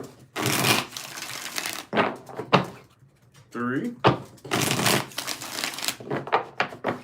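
A tarot deck is shuffled in several short, crisp bursts up close, with a voice speaking briefly between the shuffles.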